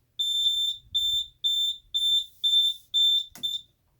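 Edwards FireShield fire alarm control panel beeping: a steady series of seven shrill, high electronic beeps at even intervals, close and loud, with a brief click near the end and no talking.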